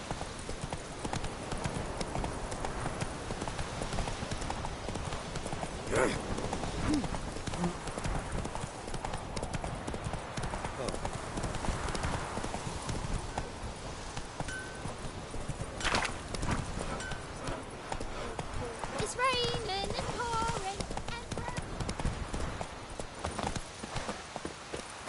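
Roach, a horse in The Witcher 3, gallops with a rapid, steady rhythm of hoofbeats that runs without a break. Some faint voices sit under the hooves.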